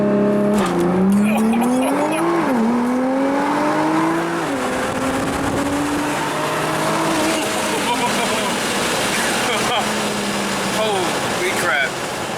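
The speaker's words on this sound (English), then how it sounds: "we're gonna launch it as you do with GTRs" A Nissan GT-R launches hard from a standstill, its engine note climbing through gear shifts while tires squeal, heard from inside the car as a passenger speaks over the roar.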